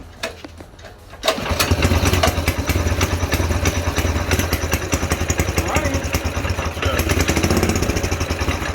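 A mini bike's small engine is test-started on choke and runs loud and continuous after a brief pull, a steady buzzing idle close by with a faint voice under it.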